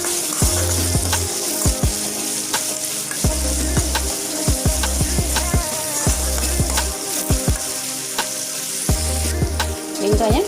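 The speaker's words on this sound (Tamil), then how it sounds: "இது கொஞ்சம் நல்லா வதக்கிக்கலாம். வெங்காயம் வதங்கணும்" Small onions sautéing in a pan for prawn thokku, a steady close sizzle with frequent spatula scrapes and stirs, and a low hum coming and going in the background.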